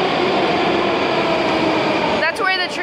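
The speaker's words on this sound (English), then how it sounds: "it gets very loud in here when the train comes" Loud, steady roar of a Moscow metro train arriving in an underground station, with a brief squeal and a shift in the noise near the end.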